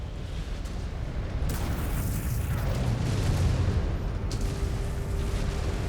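A mech blows up in MechWarrior 5: Clans, a deep rumbling blast that swells and rolls on for several seconds, with sharper bursts breaking through the heavy low roar.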